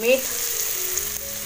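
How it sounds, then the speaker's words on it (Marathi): Tomato sautés in oil in a pan over a wood-fired stove, making a close, steady frying sizzle with a faint stir of movement and no voices. "चांगलं जरा तेल सुटेपर्यंत ना परतून घ्यायचं"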